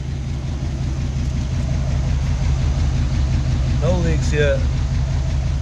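A 1971 Chevy pickup 4x4 engine idles steadily and continuously at close range, a low even rumble throughout, with someone speaking briefly over it.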